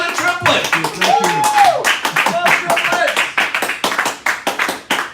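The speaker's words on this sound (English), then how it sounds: "Let's give him a round of applause." An audience claps for a guest, a triplet, on a live beach show, with sharp uneven claps running through the whole stretch under loud overlapping talk.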